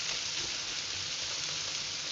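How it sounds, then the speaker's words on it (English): Onions fry in hot oil with a steady, even, close sizzle, a dense unbroken hiss that holds constant for the whole short stretch without pauses or talk. "you want to just fry these until they're nice and golden brown"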